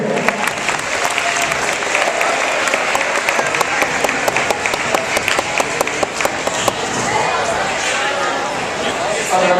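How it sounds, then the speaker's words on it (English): Loud, sustained audience applause for speakers at a lecture event, a thick patter of many clapping hands lasting nearly ten seconds, with voices mixed in beneath it. "a round of applause for all of them"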